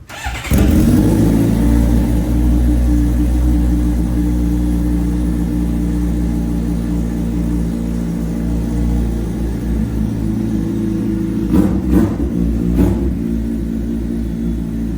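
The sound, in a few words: heavyweight superbike engine starting and revving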